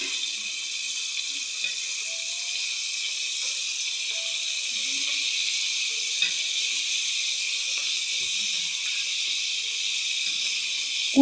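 Chopped spring onions fry in a pan while a paneer dish is prepared, giving a soft, steady hiss of oil with faint scattered clinks and stirring taps beneath it.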